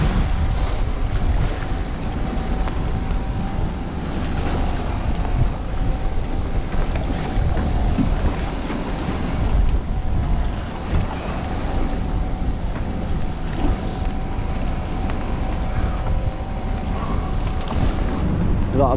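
Wind buffets a small fishing boat at sea during gill net hauling in rough water, a steady loud roar of wind and water rush against the hull without pause, with no talking.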